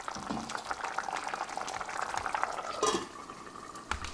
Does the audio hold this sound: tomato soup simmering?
yes